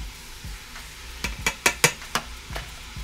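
A spoon scrapes and clacks against a pot of red beans and rice with ham hock, several distinct knocks in quick succession over a low simmering hiss, close and fairly quiet.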